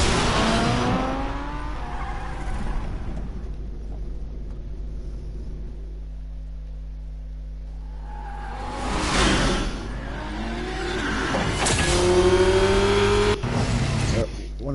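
A car in the Batman Telltale video game drives hard with engine revs, whooshing passes and squealing skids, loud and close, while voices talk intermittently over the action.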